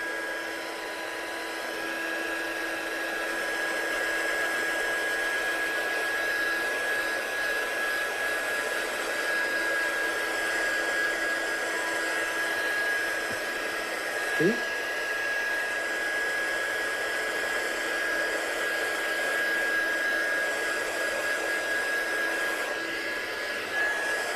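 A heat gun blows steadily for around twenty-four seconds to dry a stencilled handmade card, an even, loud whooshing drone with a faint high whine and one brief knock midway, no talking.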